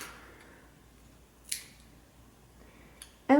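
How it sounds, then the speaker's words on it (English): Scissors snip through crochet yarn tails on a Christmas sweater garland, a brief soft swish followed by a sharp close snip at the end, otherwise near silence. "You can cut this yarn tails,"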